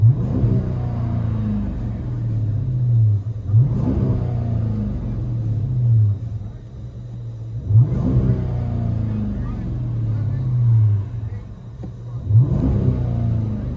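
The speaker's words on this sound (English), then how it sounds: "Chrysler 300S 2013 rear muffler delete. Still got the mids. Deleted the rears." Interior sound of a 2013 Chrysler 300S with a 5.7L HEMI V8 and rear muffler delete, mids retained: a deep steady rumble rising in several repeated rev swells, loud and close throughout.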